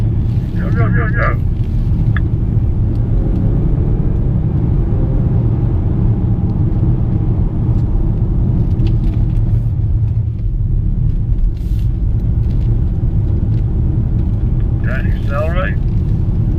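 A 2017 BMW 340i xDrive accelerating hard at full throttle, a loud steady engine roar with heavy low rumble and wind buffeting throughout, as an instructor calls out over it.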